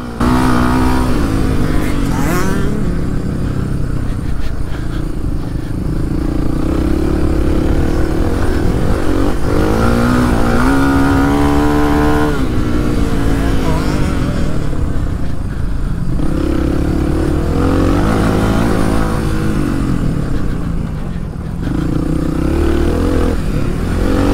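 Suzuki DR 350 trail motorcycle ridden hard at full throttle during an enduro special stage, a continuous loud engine roar rising and falling with gear shifts and revs, other bikes' engines mixed in.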